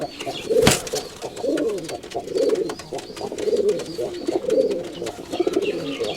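Rajshahi Giribaz high-flying pigeons coo repeatedly in soft rhythmic bursts while being paired, close and moderate in volume, with a brief sharp noise early on.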